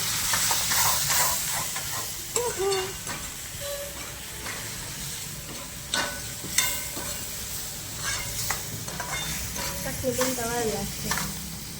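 Onion and tomato curry sizzles and crackles steadily in a hot pan while a utensil stirs and scrapes, with occasional clinks and short high squeaks over the frying.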